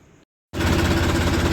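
Tractor engine cutting in abruptly after a brief silence, then running loud and steady with a dense low rumble and rattling vibration close by.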